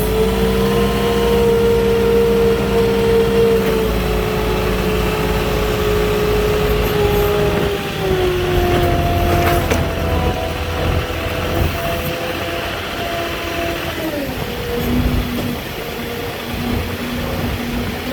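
A Moffett truck-mounted forklift drives with a load of drywall, its engine note holding steady and then dropping in pitch as it slows, a loud continuous drone close by with no talk over it.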